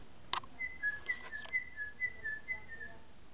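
A person whistles to hold a baby's attention, a short series of clear, high, rising and falling whistle notes, close and fairly soft, following a brief tap at the start.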